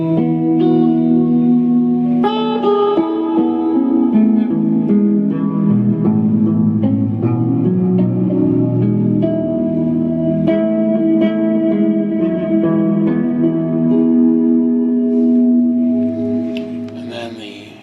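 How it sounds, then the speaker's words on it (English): A sustained guitar tone through an Eventide H9 reverb pedal, washed in lush reverb, chords ringing and blending into long shimmering tails, steady and loud throughout before fading at the end. "The third one is the Eventide H9, just a reverb sound."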